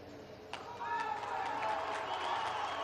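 A crowd at a velodrome cheers and shouts with rising enthusiasm during a UCI Hour Record cycling attempt, a continuous swell of voices and whistles heard at moderate distance.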